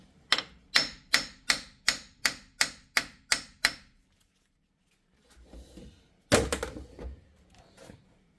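Nine evenly spaced, sharp metallic hammer taps ring out on a seized wheel hub and bearing. After a pause come a few duller knocks and some clunking.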